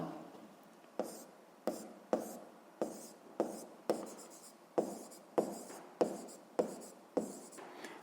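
A pen writes on paper during a Ukrainian seventh-grade physics lesson, giving a scratchy stroke about every half second to one second. Each stroke starts with a sharp tap against a quiet room, and no one talks over it.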